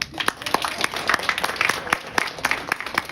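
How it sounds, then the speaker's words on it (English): Audience at an office award event claps in a burst of applause, sharp individual claps scattered through a steady, moderately loud roar of hands with no talk over it. "Let us now cheer up for Janner Quinn."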